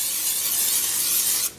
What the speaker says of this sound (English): olive oil spray here